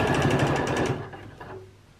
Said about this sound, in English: I'm just going to start quilting